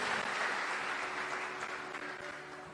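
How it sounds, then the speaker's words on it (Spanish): Applause from a church congregation honouring Christ at a religious gathering, a steady wash of many hands clapping at moderate distance throughout, fading slightly toward the end, with no voices over it. "Dele un fuerte aplauso a Cristo Jesús"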